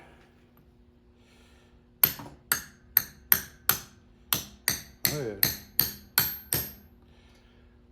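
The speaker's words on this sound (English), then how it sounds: "Then we'll get a hammer." About fourteen sharp metallic hammer strikes ring out in a steady rhythm, close and loud, after a quiet start with a brief spoken remark, while fitting a hydro motor on a John Deere Z930M mower.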